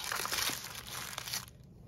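Foil packet crinkling and crumpling close by as it is lifted out of a Maniology nail subscription box, a continuous rustle of plastic-foil wrapping that fades out near the end.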